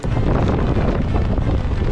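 Loud, buffeting headwind roaring across a microphone on a bicycle descending at about 20 km/h, constant and close, with low rumbling gusts throughout and no clear speech.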